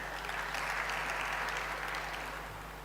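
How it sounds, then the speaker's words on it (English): Audience applause at a health conference, sustained steady clapping filling the hall at even loudness before slowly tapering toward the end. "Clap the hands for them."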